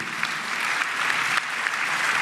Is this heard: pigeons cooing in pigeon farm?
no